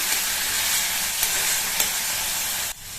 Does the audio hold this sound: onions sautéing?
yes